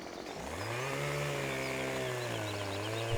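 A chainsaw in Farming Simulator 17 revs up into a loud, steady buzzing drone as it cuts through logs, holding its pitch for several seconds with no speech over it.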